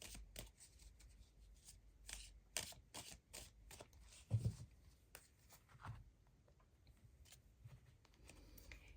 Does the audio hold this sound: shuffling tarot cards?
yes